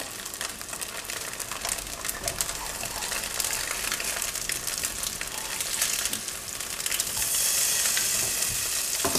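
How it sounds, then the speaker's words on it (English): Steady, dense sizzling of tofu frying in a hot pan, loud and continuous, growing a little more intense near the end. "while you're frying them"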